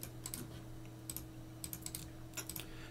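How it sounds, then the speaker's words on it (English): Keystrokes on a computer keyboard while a command is entered in a Linux terminal, a handful of light, close clicks in short irregular bursts over a steady low hum, with no talking. "Then you need to type this command"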